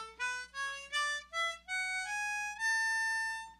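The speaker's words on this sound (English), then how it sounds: "it's a good thing to remind yourself of the chromatic scale and rip one of those off. Sounds like this, starting on 4 blow." An ascending chromatic scale played on an A harmonica, starting on the 4 blow hole, with about nine clear, separate notes stepping upward and ending on a longer held tone, loud and close with no talking.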